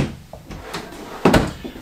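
A drawer in an RV kitchen being opened, a few brief wooden knocks and a sliding scrape ending in a louder thump, close and alone.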